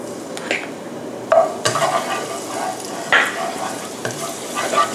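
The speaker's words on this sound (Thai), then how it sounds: "ผัดกระเทียมนะคะให้หอมนะคะ" Minced garlic stir-frying in hot vegetable oil in a wok, a steady close sizzle broken by several sharp scrapes and clatters of the spatula against the pan, with no talking.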